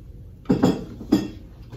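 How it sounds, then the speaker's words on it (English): A metal spatula scrapes and clinks twice against a wok while flipping eggs for shrimp fried rice, two short clattering strikes close by over quiet background. "Then I'll flip it with a spatula."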